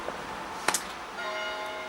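Bells of a nearby church ring out, with a bright clang and then a softer sustained tone in the background of a quiet indoor space.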